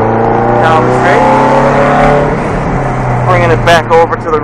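A car on a driving course rolls on power down a straight, its engine droning steadily and loudly with rising tones, while someone talks over it.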